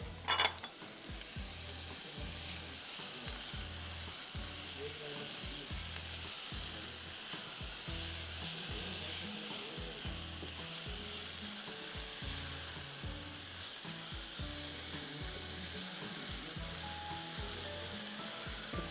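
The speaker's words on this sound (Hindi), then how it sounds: "इसको आप 2-3 मिनट फ्राई करें।" Barbecue sauce with chopped apple and banana fries in a pan, a dense steady sizzle with a faint rhythmic mechanical ticking beneath, continuous and close, no talk.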